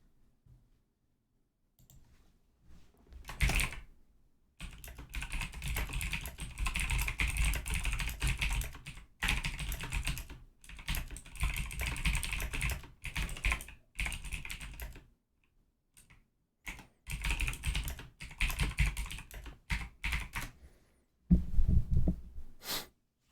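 A computer keyboard is typed on during a live day-trading session, with bursts of rapid clicking keystrokes separated by short pauses, close and fairly loud, with no talking.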